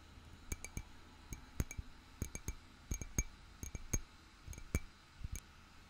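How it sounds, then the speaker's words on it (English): A glass perfume bottle clinks and taps in a series of sharp, bright, close ticks spaced irregularly over a quiet background. "It smells really nice, and the bottle is glass,"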